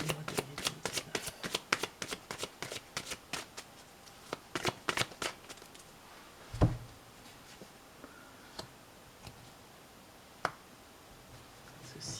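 Tarot cards being shuffled, a quick run of crisp riffling flicks and snaps in the first half, then a few isolated soft taps and slaps spaced apart, close and quiet with no talking.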